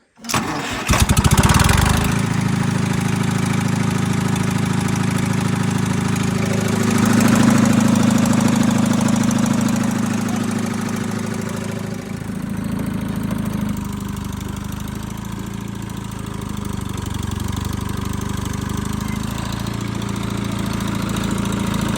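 A Detroit Diesel 2-71 two-stroke diesel on an Allis Chalmers HD-5 dozer cranks and catches with a sharp burst, then settles into a loud, steady, buzzing idle that swells slightly as throttle shifts.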